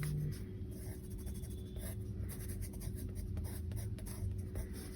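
A Tombow dual brush pen drags across paper in soft, continuous scratchy strokes, close and quiet, drawing petal shapes and circles with no talking.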